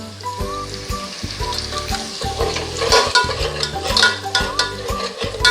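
Ginger, garlic and coconut paste with a pinch of asafoetida sautéing in a hot pan, a steady close sizzle broken by repeated scraping stirs of a spoon against the pan, no voices.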